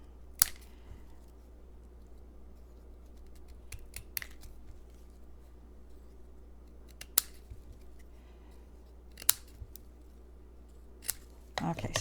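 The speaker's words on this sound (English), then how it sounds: "So I have 2 pieces here, and I just cut them up." Scissors snip paper pieces for a handmade stamped card, a few sharp isolated cuts spread over a quiet room with a low steady hum underneath.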